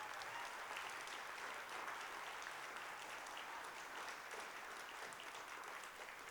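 At an applied art and design award ceremony, an audience claps in a steady, even round that stays at a low, distant level throughout.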